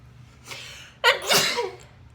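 A single sneeze with a sharp intake before it, moderately close, then a brief trailing exhale; low background hum underneath.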